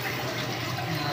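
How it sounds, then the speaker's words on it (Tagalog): Water driven by a small pump pours steadily down a homemade wooden waterfall into an aquarium, a continuous close trickling and splashing with no talk. "makyat ng tubig at umaagos na siya pababa"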